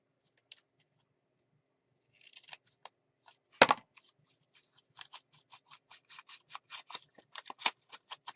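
Scissors trimming paper pieces for a junk journal, a quiet close run of crisp snips and short slicing cuts, a few scattered at first and then a quick regular series.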